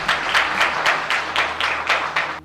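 A small audience at a Ramayana quiz competition claps in a rhythmic, evenly spaced burst of about nine beats, close and fairly loud.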